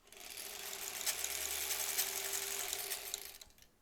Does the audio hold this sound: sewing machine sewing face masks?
yes